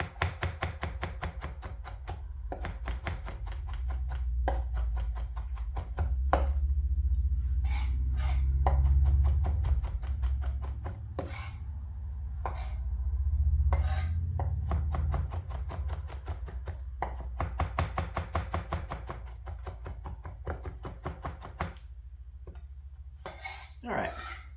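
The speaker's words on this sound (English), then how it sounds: "I'm just going to chop it up a little smaller" A knife chops fish into small pieces on a cutting board, a fast run of close, sharp knocks in bursts with brief pauses between; no talking.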